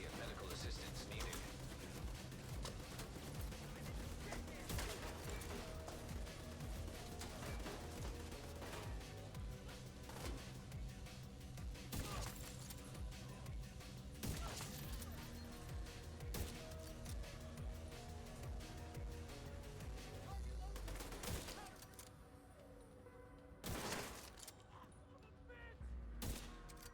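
Sniper rifle fire and other gunfire in The Division 2 shooter game, a dense continuous stream of shots and impacts over a busy game soundscape, with a player's voice talking throughout.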